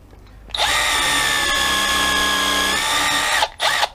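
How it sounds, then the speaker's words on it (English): A loud power drill whines steadily for about three seconds, close by, then stops and gives one brief final burst. "I'll just drill this out here."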